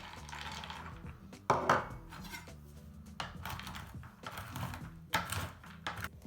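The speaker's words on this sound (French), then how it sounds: "je vais hacher les noix de cajou grossièrement" A knife coarsely chops cashew nuts on a board, giving scattered sharp taps and clusters of quick knocks with short pauses between them, close and moderately quiet.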